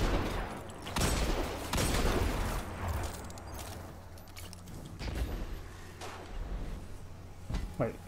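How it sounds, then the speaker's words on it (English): Gunfire aimed at the player in the Destiny 2 game, Beyond Light campaign, with several sharp broadband shots and bursts spread across the stretch, the loudest early, amid other in-game combat noise and a talking voice. "Somebody shot at me."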